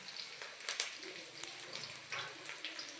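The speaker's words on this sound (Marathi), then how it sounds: "हे बघा मस्त तळतंय." Curry leaves fry in hot oil, a steady soft hiss with small crackling pops, fairly close and quiet, with no talk over it.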